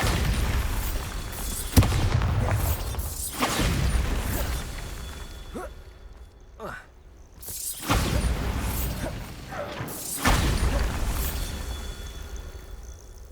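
Bombarda blasting spells go off one after another in Hogwarts Legacy, several loud booming bursts a few seconds apart, each trailing into rumbling debris and mechanical clatter.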